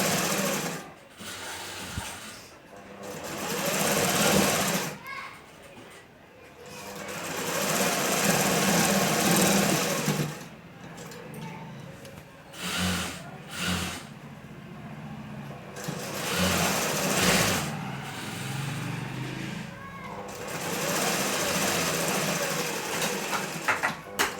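A sewing machine stitches a kunchigi, a cloth hood, up close, running in several bursts of rapid stitching with short pauses between them.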